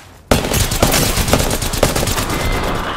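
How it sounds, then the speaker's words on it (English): Rapid automatic gunfire from Apex Legends starts abruptly after a brief quiet moment, then continues as a loud, dense stream of shots. Regular sharper cracks punctuate the burst. "They're shooting at me."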